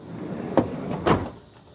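A Palace camper van's door closing, with two short solid thumps about half a second apart, close by and moderately loud over a low steady background hum.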